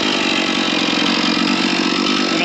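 A chainsaw mounted on an Alaskan chainsaw mill idles loudly and steadily up close, a constant buzzing engine drone with no other sounds.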